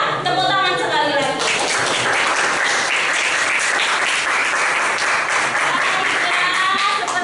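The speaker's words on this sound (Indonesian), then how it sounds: "Tepuk tangan sekali lagi." Dense, loud applause from a classroom of students fills the whole stretch, steady and enthusiastic, with a few voices calling out at the start.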